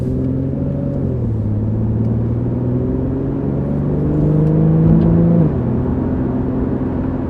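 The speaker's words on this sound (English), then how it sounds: "So let's take this car out on the road, so you can get an idea for how it feels in daily driving." A 2013 Infiniti G37x AWD with a 7-speed automatic cruises on the road, its engine a steady low hum and drone whose pitch dips and climbs slightly as speed changes, with no talking.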